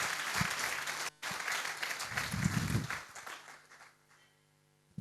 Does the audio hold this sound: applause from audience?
yes